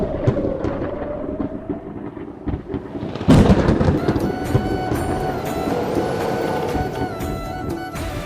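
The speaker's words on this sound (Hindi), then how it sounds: "एक रात बिजली चली गई और आसमान में बादल गरजने" Loud thunder rumbles and cracks through a night storm, a sudden heavy clap landing midway and a long rolling roar continuing after it, with no voices.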